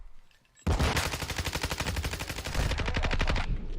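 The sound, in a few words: gunfire in the video game Modern Warfare 2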